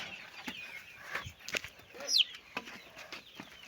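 Chickens cluck in a garden coop among chicks, with scattered short clucks and a few sharper calls, fairly near and moderately quiet, over light background noise.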